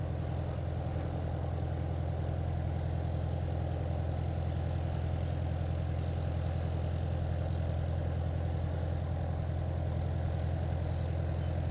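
An Airbus Beluga XL taxiing at Hawarden Airport gives a steady, distant jet-engine drone with a constant low rumble and broad hiss, unbroken for the whole stretch.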